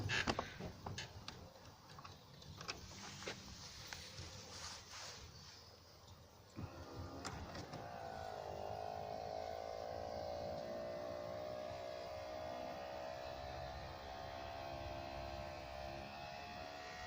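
A convertible car roof runs through its cycle: a few light clicks and ticks, then an electric motor whirs in a steady, moderately quiet hum for several seconds, with no talk.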